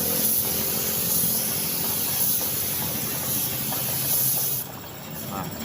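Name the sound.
spray painting a motorcycle fairing cover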